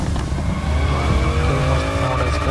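Lamborghini sports car engine in the mobile game BGMI PUBG roars steadily with a heavy, dense rumble and tire-squeal texture, loud and close, continuous throughout with no talk over it.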